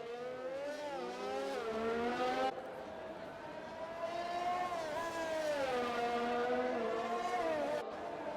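Race cars in a sim racing game at Monaco whine at high revs, the pitch climbing and dropping through gear changes, while a commentator talks over the steady engine drone.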